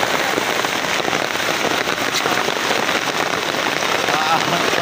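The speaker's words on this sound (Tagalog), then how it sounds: "Ayun, lakas na ulan." Heavy rain pours down steadily and loudly, a dense continuous hiss of drops striking surfaces close by with no let-up.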